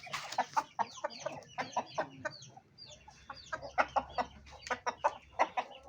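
Aseel hen, four years old, clucking in a rapid irregular series of short, close calls alongside other fowl, with faint chatter in the background.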